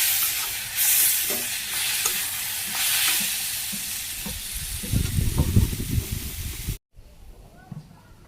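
Pieces of ash gourd fry and sizzle steadily in a pan over a low flame. Near the end a spatula stirs them with louder clattering scrapes, then the sound cuts off briefly.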